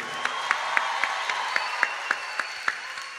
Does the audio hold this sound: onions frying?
no